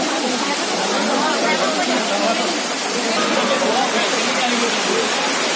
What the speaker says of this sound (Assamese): অলৰেডি বৰষুণ বহুত বেছি